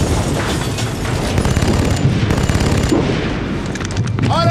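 Gunfire volley in a TV drama battle scene, rapid bursts of loud close gunshots rattling continuously for several seconds.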